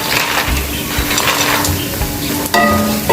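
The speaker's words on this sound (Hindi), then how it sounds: "अब इसमें हम ये मखाने डालते हैं।" Makhana (fox nuts) frying in hot ghee over high heat, a steady close sizzle and crackle with occasional knocks and clinks of a utensil against the pan.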